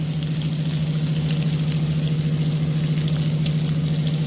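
Stuffed brinjals frying in a pan with oil, a steady close sizzle and crackle without pause, plus a constant low hum underneath and no talking.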